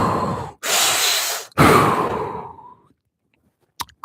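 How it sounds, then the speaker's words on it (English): Three big breaths in and out through the mouth, each a long, loud, airy exhale close to the mic with short pauses between, during a stress-reset exercise, fading to silence at the end. "let's do 3 big breaths in and out the mouth."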